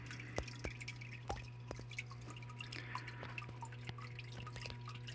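Water trickles and drips over stones in a small outdoor biotope waterfall with aquatic plants, a steady splashing patter with scattered close drips over a low constant hum.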